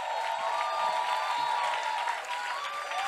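Congregation at a Sunday church service cheering and acclaiming, a steady wash of crowd voices and scattered clapping sustained throughout, moderately loud and diffuse with no single voice standing out.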